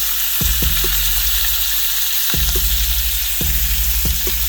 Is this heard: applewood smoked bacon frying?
yes